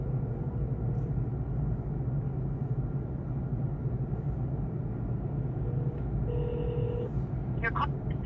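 A phone call ringing over a car's speakers inside a Chevy Bolt rideshare, repeating electronic ring tones over a low steady cabin rumble, with a short burst of other sound near the end.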